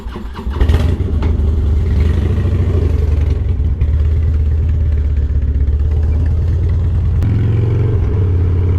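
A Harley-Davidson Dyna motorcycle engine rumbles loud and close, catching quickly and then holding a deep, steady idle with a brief blip near the end.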